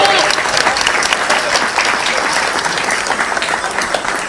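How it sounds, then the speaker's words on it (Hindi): Loud, dense audience applause fills the hall at a Hindi hasya kavi sammelan comedy poetry show, a steady roar of many hands clapping together without a break. "एक बार जोरदार तालियां बजाइए"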